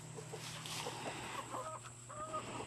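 Chickens cluck softly and intermittently in a chicken pen, with a few higher calls over a steady background hum.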